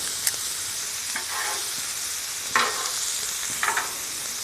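Fresh thyme sweeps around a hot pan where steak sizzles steadily, with a few soft scrapes and stirring knocks standing out over the continuous close frying hiss.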